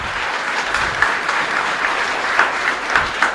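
A congregation at a Catholic Mass in a chapel applauds, a dense, steady patter of many hands clapping together at moderate distance, sustained for a few seconds with a few sharper claps standing out.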